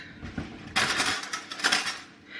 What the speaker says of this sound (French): Donc hop, on touille. Je prends une cuillère.